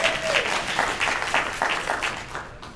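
Crowd at a political talk on Florida's Amendment 1 breaks into applause, moderately loud clapping with distinct rhythmic hand strikes and some voices, carrying steadily throughout.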